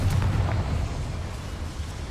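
Confringo fire-blast spell in Hogwarts Legacy: a loud, deep rumbling explosion that bursts at once and then rolls on as a dense, fading roar.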